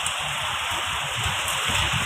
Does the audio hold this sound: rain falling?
yes